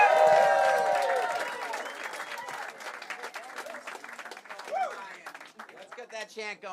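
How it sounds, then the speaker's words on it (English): A comedy festival audience claps and cheers for a comedian being introduced. The applause starts loud and full, then thins out into scattered claps, with a voice talking over it. "Start clapping right now for Brian LaRoe, everybody."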